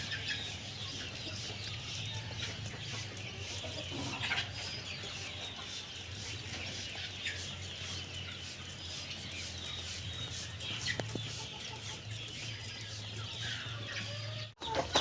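A hen and her chicks kept in a cardboard carton on a farm, clucking softly and peeping in an irregular run that continues throughout, close by with a faint steady hum underneath and no talk.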